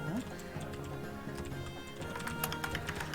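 Rapid, steady clicking of keys on a computer keyboard during a Dungeons and Dragons session, continuous for a few seconds beneath faint background sound.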